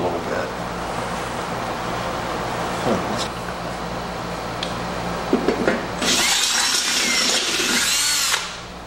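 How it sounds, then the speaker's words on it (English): A power drill whirs briefly near the end, drilling out holes on a John Deere 100-200 series mower deck, over a low background hum, with a few knocks and clicks before it. "Drill them out a little bit."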